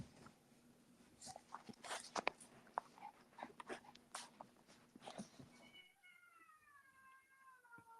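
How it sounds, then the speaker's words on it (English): Cats yowl and fight in the background. First come scattered thumps and scuffles over a steady hum, then long wavering caterwauls that rise and fall. The sounds are faint and distant, and no one talks. "That was my cat."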